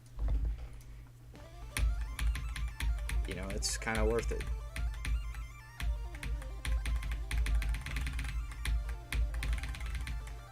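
Rapid clicking keystrokes on a computer keyboard patter steadily throughout, close and fairly loud, while a person talks over the typing.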